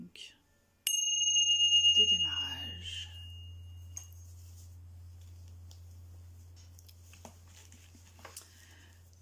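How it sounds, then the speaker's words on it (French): A small meditation gong struck once, ringing with bright sustained overtones and a long steady low hum that decays slowly, with soft speech over the resonance. "je vais mettre un petit gong"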